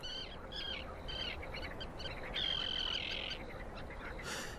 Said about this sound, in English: the sound of prayer is broken by the calls of thousands of birds